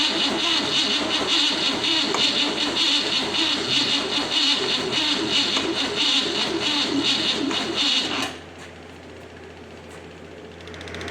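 A 1960 Cadillac 390 V8, started for the first time in three years on a run stand, runs loud and rough for about eight seconds, then drops abruptly to a lower, quieter rumble.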